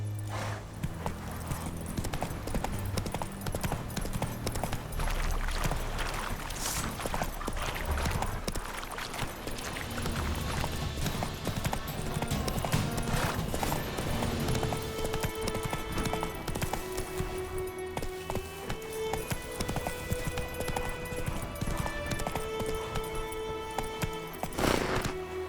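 Roach the horse gallops in The Witcher 3: Wild Hunt, a steady rapid clip-clop of hooves running continuously over a game soundtrack of music and ambience.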